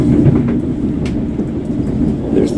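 Train 45052 rumbles steadily past near Paddington, London, a loud, close, continuous low roar with faint clatter on top and no voices.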